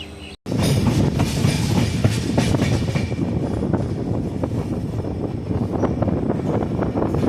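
A Tourist Express train from NJP to New Alipurduar Junction pulls away, with a steady loud rumble and clatter of rolling rail cars and wind buffeting, constant throughout after a brief dropout at the start.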